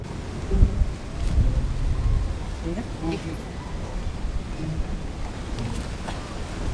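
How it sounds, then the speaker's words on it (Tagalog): Rain and gusting wind outdoors during motorbike travel, a broad steady rush with low buffeting rumbles, while people talk intermittently over it. "inabutan kami ng ulan dito"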